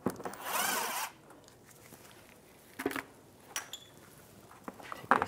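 A 10mm socket spins plastic nuts off an underside cover on a 1998-2010 Volkswagen Beetle, making a short buzzing power-driver burst up close, followed by a few sharp plastic clicks and knocks.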